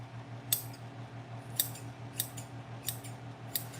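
Freshly sharpened sewing scissors snip cleanly, five crisp close cuts spaced irregularly over a low steady hum, with no talking.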